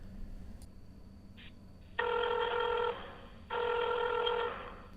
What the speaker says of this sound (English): That sounds like I'm dialing an old rotary phone.